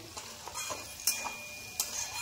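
Sabudana pulao sizzles softly in a pan while a spoon scrapes and stirs through it, with a few sharper clicks of utensil against metal over a steady frying hiss.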